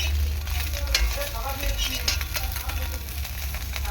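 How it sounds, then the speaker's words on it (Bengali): Small mourala fish fry in oil, giving a steady close sizzle with scattered pops and crackles. Faint stirring sounds and a low background hum run underneath. "কিছুটা ছিল সেগুলো আরেকটু ভেজে নিলাম"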